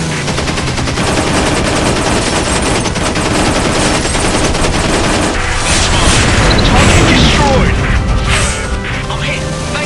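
Heavy, continuous machine-gun fire and explosions in the War Wings aerial combat video game, dense and loud throughout, with game voice alerts under the barrage.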